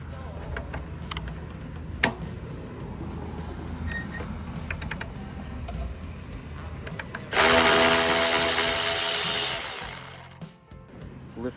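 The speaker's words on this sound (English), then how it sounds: "we can go ahead and remove this bolt here." Power tool removing a bolt on a neglected motorcycle, a loud whirring burst of about three seconds near the end after scattered clicks and taps of handling parts.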